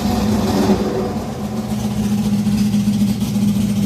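A race car engine fitted with an Accusump oil system idles steadily at close range, its low, even rumble holding a constant pitch with no revving throughout.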